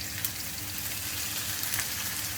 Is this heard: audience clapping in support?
no